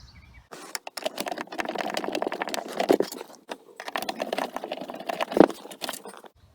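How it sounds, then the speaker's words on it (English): A screwdriver backs screws out of the plastic third brake light cover on a Mercury Grand Marquis, producing a close run of small scraping, clicking turns with a couple of sharper clacks, and no talking. "Okay, so I took those two screws out."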